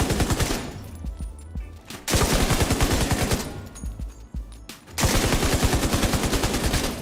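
Rapid bursts of LMG fire on a firing range in the video game The Division 2: three loud sustained volleys of closely spaced shots separated by short pauses with mechanical reload clicks.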